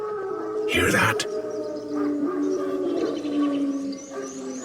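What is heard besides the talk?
wild dogs howling, from the video game The Witcher 3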